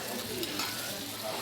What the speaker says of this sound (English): Love that sizzle.